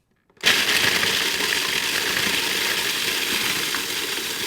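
A countertop blender grinds graham crackers into fine crumbs, kicking in abruptly and running as a loud, steady whirring grind with a gritty rattle throughout, with no talking.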